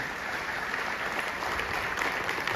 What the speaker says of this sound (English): like to have a huge round of applause for your all self coming over here